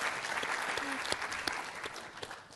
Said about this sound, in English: They're applauding because our project does what it's supposed to do.